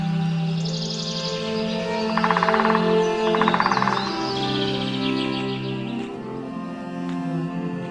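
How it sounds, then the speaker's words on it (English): A blackbird sings clear, varied phrases with quick trills, heard amid a steady tonal background hum; the song is moderately loud and carries. "to the tune of the blackbird's song"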